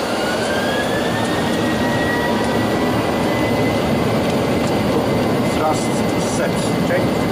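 Boeing 737 jet engines spooling to takeoff thrust, heard from the cockpit as a steady loud roar with a rising whine, while crew voices speak over it.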